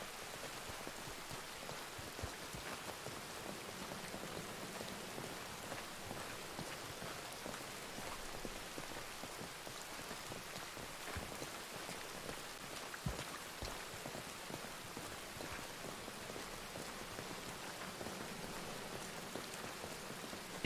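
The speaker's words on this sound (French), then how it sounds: "Et de retour dans cette pluie battante." Heavy, steady downpour drumming on surfaces outdoors, a dense constant wash of raindrops with no voices and no breaks, close and continuous throughout.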